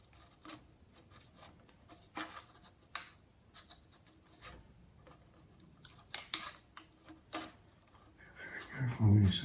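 Scissors or a blade cut through a thin wood deck sheet for a 1/200 scale IJN Mikasa ship model, giving scattered close, dry snips and scrapes, with a louder rustling burst near the end and a voice talking in places.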